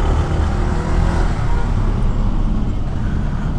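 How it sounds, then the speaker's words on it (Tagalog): Road traffic heard from a Honda ADV 160 scooter riding in the Philippines, a loud, constant broadband rumble of engines and tire noise with no breaks. "Ito yung problema dito, ang traffic."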